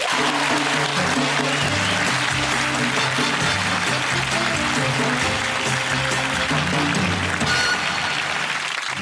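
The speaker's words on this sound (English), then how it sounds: "a big round of applause for our bodybuilder, Robbie Anchin." Loud crowd applause mixed with music, the clapping dense and continuous throughout, a few cheers rising near the end.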